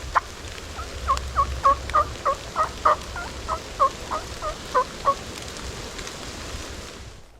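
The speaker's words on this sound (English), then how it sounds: "Pretty sure he gobbled." A wild turkey gobbles far off, a run of about a dozen short, even rattling calls over soft outdoor background noise.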